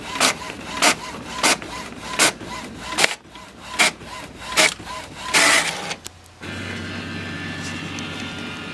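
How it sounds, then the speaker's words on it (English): An inkjet-style home printer feeds and prints a page, with repeated rhythmic mechanical bursts as the print head shuttles back and forth, then a steadier whirring hum as the sheet advances and ejects, close and moderately loud. "it's going to go ahead and print it out for me, which I will show you how my printer does it."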